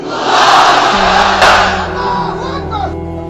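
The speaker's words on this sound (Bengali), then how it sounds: "সবাই মিলে তিনটা তাকবীর পড়েন একসাথে আওয়াজ করে" A large outdoor crowd at a religious gathering shouts a takbir together, a loud sustained roar of many voices that swells and then slowly fades.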